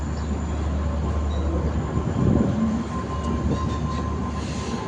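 A red express train from Mumbai pulls out of a station with a steady low rumble, rolling wheel noise and faint rail clatter, heard close and continuous with no voices.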